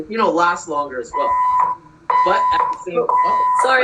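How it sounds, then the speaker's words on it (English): A home fire alarm goes off mid-sentence, holding a steady, piercing electronic tone in long stretches with short breaks, sounding under a man's continuing speech. "that's my fire alarm."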